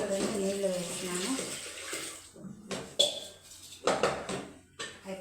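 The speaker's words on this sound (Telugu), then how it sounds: "చూడండి, నీళ్ళు వేస్తున్నాను." Water is poured into a cooking pot of dal seasoned with turmeric, a splashing, gurgling stream in short bursts following a stretch of talking.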